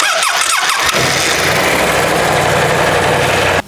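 A BMW C650GT scooter engine cranks over with a short starter whir, catches, and settles into a steady, loud idle that hums on evenly until it cuts off abruptly near the end, with no voices.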